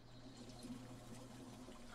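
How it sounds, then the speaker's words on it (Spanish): Running water in a video game, a faint, steady trickle with a low hum underneath and no other sounds. "Estoy oyendo ruido de agua."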